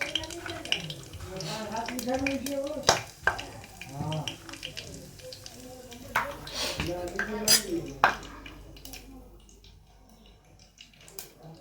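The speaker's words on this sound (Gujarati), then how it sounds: "તો તેલ ગરમ થઈ ગયું છે, તો હવે આપણે વઘાર માટે નાખશું રાઈ" Hot oil crackles and sizzles with sharp pops as mustard seeds are added for tempering, with a spoon clinking against a pot and a voice talking over it.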